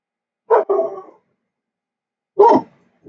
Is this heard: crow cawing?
no